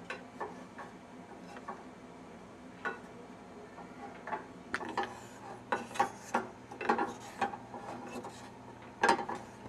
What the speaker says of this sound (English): I just keep on stirring it so one side of the chocolate doesn't burn, while the middle it still hasn't melted yet.